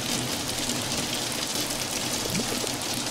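Steady rain from the video game Until Then, a dense continuous wash of falling water that fills the whole clip at an even level, with no voices over it.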